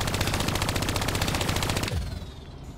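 Rapid automatic gunfire in the Black Ops 3 campaign, a fast even burst of loud shots for about two seconds that stops abruptly, leaving a fading tail.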